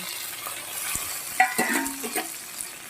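Shrimp tossed with garlic and frying in a kadai, a gentle steady sizzle broken by a handful of spatula scrapes and clinks as the pieces are turned, with nobody talking.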